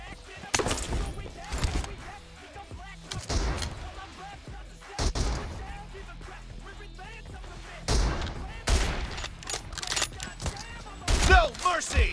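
M-24 sniper rifle shots in a team deathmatch video game ring out as loud, booming cracks spaced several seconds apart, with players talking between and over them.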